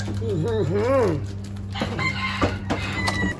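A backyard rooster among kept birds crows once clearly and nearby, its wavering call followed by scattered clucks and rustling noises in the background.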